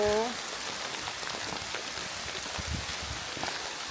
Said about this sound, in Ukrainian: Бачиш, яка злива йде?